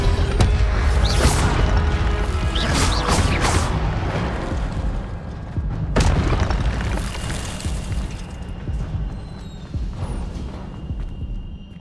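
A fire spell cast in the Hogwarts Legacy video game: a loud burst of roaring flame and crackling impacts, with sharp whooshing bursts recurring over a steady rumbling game soundscape.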